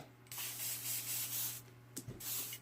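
Short hissing bursts of an airbrush being flushed during cleaning, two close sprays with a brief gap between them, over a low steady hum.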